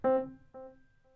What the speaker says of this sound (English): So if you want another, super lo-fi tapes type delay,